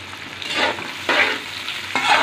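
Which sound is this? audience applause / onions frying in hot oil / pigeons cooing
onions frying in hot oil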